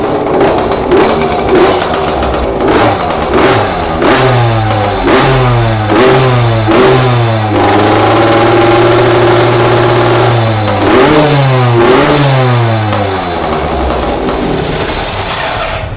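A two-stroke MX50 mini trail motorbike engine revs repeatedly, pitch climbing and dropping in quick blips, loud and close with a buzzy, raspy tone.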